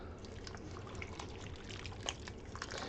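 Dill pickle soup stirred in a pot, a steady wet sloshing and liquid swirl with small clinks and splashes close by, no one talking.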